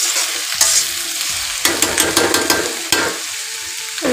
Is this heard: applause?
no